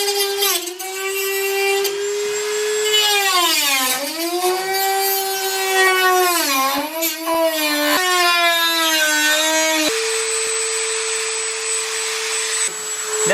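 A power tool cuts the top louver sections from a Mazda Miata hood, whining loudly and steadily with the pitch sagging and recovering as the blade bites into the metal, running continuously throughout.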